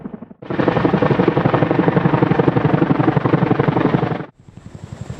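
A Chinook transport helicopter flies across the sky over Seoul, its rotors producing a loud, steady, rapid chopping thump for about four seconds before abruptly dropping away.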